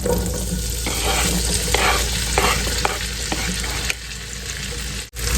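Potatoes tossed into melted butter in a skillet for breakfast potatoes, crackling and sizzling strongly up close with several stirring scrapes, the sizzle easing slightly near the end before a brief sharp cut.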